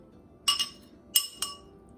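A glass food processor container clinks in four sharp, bright taps arranged in two quick pairs, close and moderately loud over a quiet kitchen hum.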